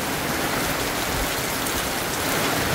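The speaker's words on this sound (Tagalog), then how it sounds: "ang lakas ng ulan" Heavy rain pours down steadily, a dense loud hiss of drops hitting surfaces with no pauses, close and continuous throughout.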